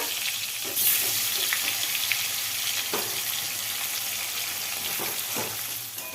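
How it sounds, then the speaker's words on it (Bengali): Pre-boiled potatoes fry in hot oil in a pan, giving a steady, close sizzle and hiss with a few soft stirring knocks, with no talking throughout. "এবার আলু ভেজে নেব এই আলুগুলো আগের থেকে সিদ্ধ করা"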